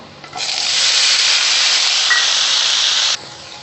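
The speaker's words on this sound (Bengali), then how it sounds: "তেলটা একটু গরম হয়ে গেছে, এবারে ভেন্ডিটাকে হালকা ফ্রাই করে নেব।" Okra hits hot mustard oil for a light fry and breaks into a loud, close, steady sizzling hiss. The hiss holds evenly for about three seconds, then cuts off abruptly.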